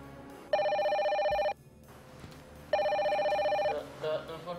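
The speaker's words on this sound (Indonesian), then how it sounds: "Telepon dah." A telephone rings in two long electronic bursts separated by a short pause, fairly loud, with faint room noise and a brief voice-like sound at the end.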